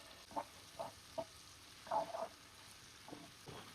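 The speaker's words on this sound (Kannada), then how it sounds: "ಆ ಎಣ್ಣೆಯಲ್ಲಿ ಈ ತರ ಮಸಾಲೆ ಫ್ರೈ ಆಗ್ಬೇಕು" Masala spices sizzling in the oil left from frying fish, heard as short bursts of crackle with gaps between them, with a longer double burst in the middle, close and fairly faint.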